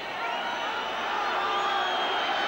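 Broad, steady roar of an English crowd cheering at a rugby league match between Great Britain and the Kangaroos, continuous and dense with scattered whoops throughout.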